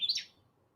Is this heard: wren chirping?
yes